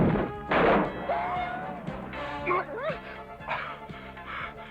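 Cartoon dog barking and yipping loudly in a burst of short barks, with whimpers and crashing thwacks mixed in, while someone shouts over the commotion.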